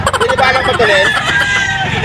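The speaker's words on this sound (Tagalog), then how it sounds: "Ayan po yung mga manok ni Boss Charles." Boston Roundhead gamefowl roosters crow repeatedly at a backyard breeder's stall in Grotto, Bulacan, their drawn-out calls overlapping nearby while people talk and a vehicle rumbles in the background.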